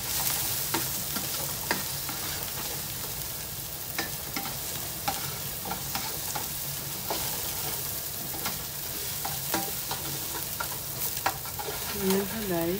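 Onion sizzles as it fries in a pan, a steady crackling hiss broken by repeated scraping and tapping strokes of a utensil stirring it, fairly quiet and close.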